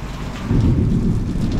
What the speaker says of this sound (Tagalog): Kahit na po umuulan,